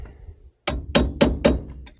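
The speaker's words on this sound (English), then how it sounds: "Just got to get my punch and a hammer, pop those out." Four sharp metallic strikes of a hammer on a punch, driving pins out of a 1991 Ford F-150, ring close and loud after a short quiet pause, evenly spaced about a quarter second apart.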